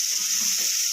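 Tamarind juice is poured into a hot pan over cooked ivy gourd pieces, giving a brief, dense burst of sizzling hiss close up.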